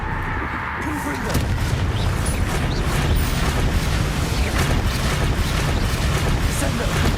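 A Confringo fire spell explodes in the Hogwarts Legacy video game: a quiet opening gives way to a loud, dense roaring blast that keeps rumbling and crackling steadily to the end.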